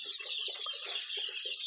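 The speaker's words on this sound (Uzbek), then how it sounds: "Mana ular 1 oylik jo'jalar." One-month-old Andijan black chicks, an egg-and-meat breed, cheeping together in a brood, a dense steady chorus of thin high peeps with no talk.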